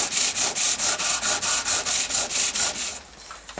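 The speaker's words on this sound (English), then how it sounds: "Taking up some of the chippings on the floor, rub the wood thus, and this acts as burnishing." A turned wooden rolling pin rubbed with wood chippings to burnish it on a lathe, a close, loud rhythmic rasping swish repeating about four times a second, then fading at the end.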